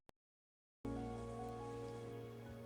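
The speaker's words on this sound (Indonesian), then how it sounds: "Hujan, Bu." Steady rain falls after a brief silence, a dense continuous patter picked up by a call microphone and holding at an even, fairly loud level until the end.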